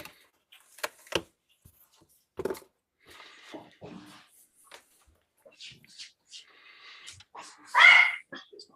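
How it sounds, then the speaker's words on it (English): Dogs bark in a workshop during a MakerBit Tally Light kit demonstration, giving several sharp, scattered barks and yips spread over the clip, one louder burst near the end. "Stop. Crazy dogs."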